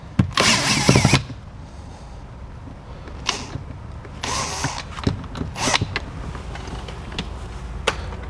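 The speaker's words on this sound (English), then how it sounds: "So now we have to unscrew this bolt." Bolt on a Mazda CX-3 door trim being unscrewed, with short bursts of a power driver whirring and brief ratcheting clicks and creaks between them, close and fairly loud.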